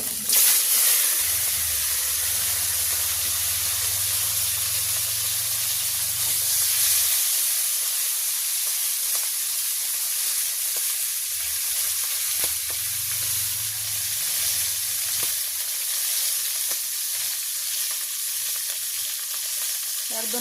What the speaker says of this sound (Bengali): তেল গরম হয়ে গেছে, আমি এখন মাছ দিয়ে দিচ্ছি। হালকা একটু ভাজি করে নেব ট্যাংরা মাছগুলা।